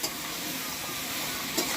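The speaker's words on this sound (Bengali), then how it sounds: "এই যে চিকেনটা ভেজে নিচ্ছি, ভালো করে ভেজে নেব।" Country chicken fries in a pan with a brief, even hiss of sizzling oil and a small clink near the end.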